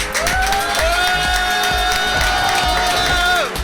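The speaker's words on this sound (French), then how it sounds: "Applaudissez Simon s'il vous plaît" A live show audience cheers and applauds for Simon, a lively crowd roar with whoops and clapping, loud and close, while a sustained whistle-like tone sounds over it.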